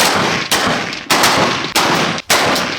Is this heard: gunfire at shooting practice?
yes